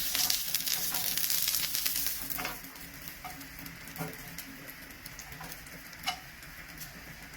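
Milk cheese toast sizzling in a pan, a soft crackling fry that is busier at first and then settles, with a few light clicks and taps from the cooking.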